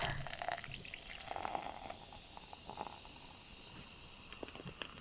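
A canned sparkling water drink pours into a glass with a steady, soft fizzing stream and light bubbling, close and quiet with no voices.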